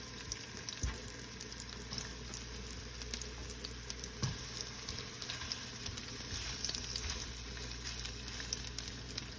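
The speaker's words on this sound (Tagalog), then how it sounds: "Kunting gisa-gisa lang yan guys." Chopped onions sautéing in a pan as the base for corned beef, a steady soft sizzle with faint patter and occasional stirring clicks, close and even throughout with no talking.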